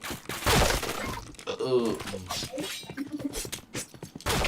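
A flashbang grenade goes off in a video game, a loud bursting crack with a shattering high ring, heard up close amid a busy mix of game sounds and someone talking.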